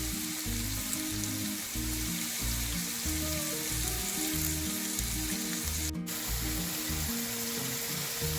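Tomatoes and curry leaves frying in a pan with ginger garlic paste, giving a loud, steady, close sizzle and spitting with a regular pulsing rhythm and one sharp crackling burst.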